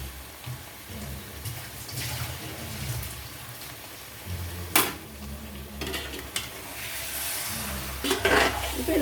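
Chicken goes into a pot of Tamil-style chicken kuzhambu and is stirred, giving a wet sizzling hiss with scraping and clattering of the spoon against the pot, including a sharp clank midway, all fairly close.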